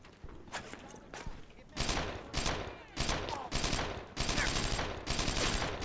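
Bursts of gunfire from the World War II shooter Brothers in Arms: Earned in Blood, loud and repeated volleys with a machine gun and rifles trading shots over several seconds, and a voice speaking between them.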